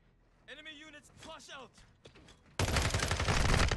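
Someone speaks briefly, then a loud burst of rapid gunfire erupts and holds to the end, from the Call of Duty MW2 multiplayer game.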